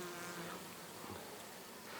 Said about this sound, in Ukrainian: Бджола пада на прильотку.